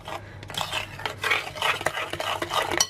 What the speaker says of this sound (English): just mix until everything's combined together